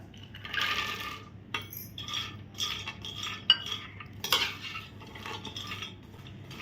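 Pistachios roasted in a pan and stirred, with intermittent light scraping and clinking from a spoon, close and fairly soft, with quiet pauses between strokes.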